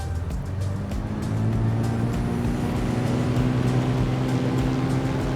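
Simulated Cessna 207 piston engine revving up to full takeoff RPM in Flight Simulator 2020, a steady low drone that swells louder after the first second and holds, with no talk over it.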